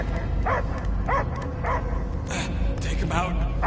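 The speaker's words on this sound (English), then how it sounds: "I hear only barking." A dog barks and yips in a Guardians of the Galaxy video game scene, several short barks spaced through the clip over a steady low rumble of game music and ambience.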